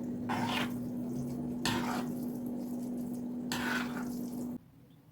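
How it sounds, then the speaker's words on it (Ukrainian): Pork mince filling with fried rice for stuffed peppers is stirred and stewed in a pan, three scraping, sizzling bursts of stirring over a steady low kitchen hum. "Перемішую, тушкую іще приблизно до 5 хвилин"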